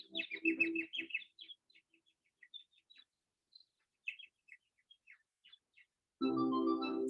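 Small bird chirping and tweeting in short repeated phrases, fairly faint with pauses, as in a told story of a snow-white bird singing; a louder burst of broadband noise cuts in near the end.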